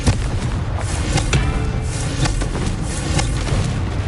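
Confringo explosion spell in Hogwarts Legacy, a loud run of repeated booming blasts and thuds in irregular succession over a dense rumbling background.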